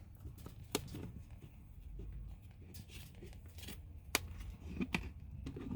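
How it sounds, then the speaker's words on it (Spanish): Scissors make a few faint, sharp snips while cutting a succulent plant, heard as quiet isolated clicks over soft background rustle. "Lo que yo hago es un pequeño hoyito donde entra las tijeras y hacemos el corte."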